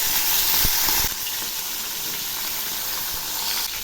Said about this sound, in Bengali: তেল গরম হয়েছে, এবার আমি মাছ ছেড়ে দিচ্ছি।